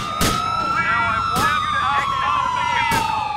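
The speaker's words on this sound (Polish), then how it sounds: "Wyłączę syrenę" A police siren wails in the video game Grand Theft Auto IV, its tone sweeping up and down loud and close, punctuated by sharp bursts roughly every second and a half, with no speech.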